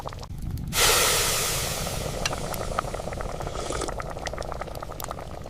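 Mutton simmers in a miniature pot set out in rice fields, a steady broadband hiss of sizzling and bubbling that starts abruptly and then holds, close and moderately loud, with small crackles throughout.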